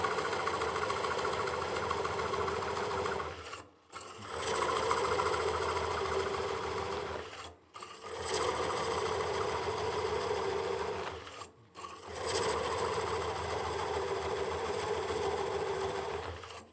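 A wood lathe cores a bowl with a Oneway Easy Core cutter, giving a steady, fairly quiet whirring and scraping drone broken by three short silent pauses.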